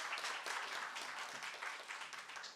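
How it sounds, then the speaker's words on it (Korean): Soft, steady applause from the audience at a Korean special education society spring conference welcomes the head of the national lifelong education institute to the podium, heard faint and even across the hall without voices. "나오실 때 큰 박수로 환영해 주시기 바랍니다"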